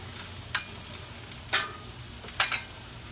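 Butter going onto a hot Blackstone griddle for steak and shrimp hibachi, a soft steady sizzle broken by several sharp scraping stirs of a spatula, close and without talk.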